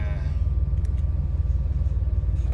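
DeLorean engine on a cold start, a loud, steady low rumble close by that holds with slight pulsing for a couple of seconds.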